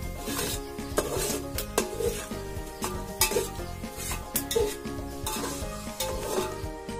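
Onion fries in oil in a pan for a Konkan-style chicken dish, a quiet sizzle under a steady rhythm of scraping stirring strokes roughly every second, with light metallic clinks and no talking.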